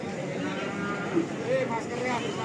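Simmental cattle at a livestock market in Tuban, several low moos rising out of a steady crowded background din, with people talking nearby.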